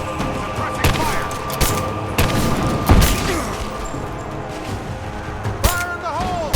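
Scattered gunshots and impacts in the Rise of the Tomb Raider video game, several sharp cracks and thumps spread irregularly over a busy combat background, with brief shouted voice calls and whistling tones.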